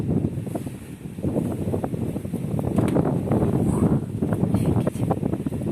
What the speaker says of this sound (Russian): ветер такой прям сдувает